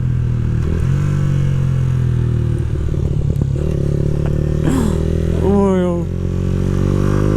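A Yamaha YZF R125 motorcycle on a test ride, a steady loud engine drone that shifts pitch as it revs, with a brief exclamation from the rider.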